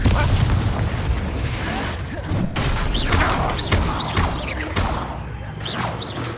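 A Confringo spell explosion in Hogwarts Legacy during a boss battle, with dense booming blasts and whooshes that hit repeatedly over constant loud combat noise.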